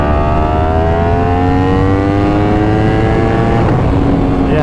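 A 1000cc street motorcycle engine revs hard and loud close by, a sustained rising mechanical howl that climbs steadily in pitch before briefly dropping back, heard alone without talk.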